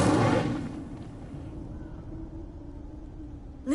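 Incendio fire spell cast in Hogwarts Legacy: a loud, broad whooshing burst of flame at the start that fades into a low rumbling crackle, ending with a brief sharp flare.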